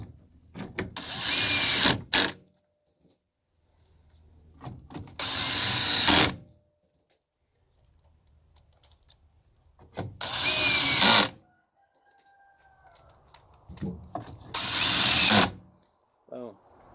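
A power drill drives plastic screws into the housing of a Troy-Bilt TB2MB leaf blower in four loud whirring bursts of about one to two seconds each, separated by quiet gaps with brief speech between them.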